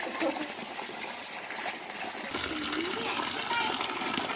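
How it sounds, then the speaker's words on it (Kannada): Water flows continuously and strongly in summer, a steady gushing rush that carries on throughout, with people talking faintly nearby. "ನೀರು ನೋಡಿ ಬಿಟ್ಟದಂತೆ, ಫುಲ್ಲು ಹರಿತಾ ಉಂಟು."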